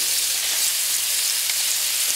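Mustard seeds frying in hot oil for a masala dosa filling give a bright, dense, continuous sizzle with faint popping, close and loud with no voices.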